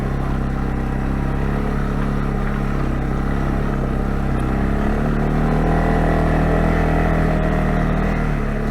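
A 2022 CFMOTO CFORCE 625 L ATV engine drones steadily while riding in two-wheel drive and high range, a loud, close, continuous motor hum with no speech.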